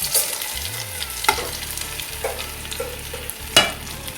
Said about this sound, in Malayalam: ഇത് നന്നായിട്ടൊരു ബ്രൗൺ നിറാവുന്ന വരെ വഴറ്റിയെടുക്കണം